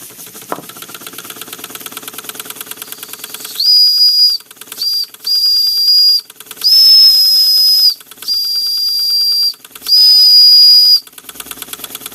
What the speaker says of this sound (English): I had to play with that whistle.